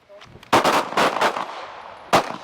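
Handgun shots at an outdoor shooting range: four sharp, loud reports close by, three in quick succession and one after a short pause, with a little faint background noise.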